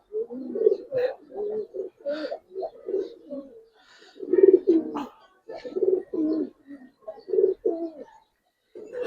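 Giribaz pigeons keep up a close, repeated cooing, a long sequence of low burbling phrases with short gaps between them, loud and clear, with no talk over them.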